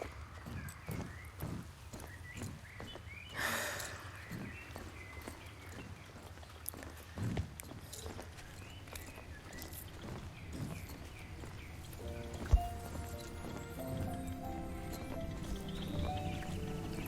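Pony hooves clip-clopping steadily in Star Stable, soft rhythmic footfalls under constant game ambience, with a brief whoosh and gentle music entering near the end.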